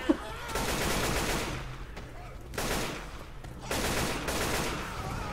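Gunfire in Left 4 Dead 2, a zombie shooter game: sustained rapid automatic bursts in three long volleys with short gaps, loud and close.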